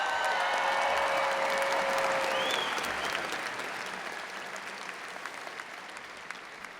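A large audience at a high school graduation ceremony applauds in a dense, sustained wash of clapping that starts loud and slowly tapers off, with a brief tone sounding early on.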